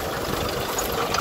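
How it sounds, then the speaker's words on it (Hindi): A John Deere 5210 Gear Pro tractor engine chugs steadily at idle nearby, rattling, loud and continuous with a slight knocking pulse. "तो ये दोस्तों ट्रैक्टर जो है स्टार्ट हो चुका है। और ये साउंड है इसका।"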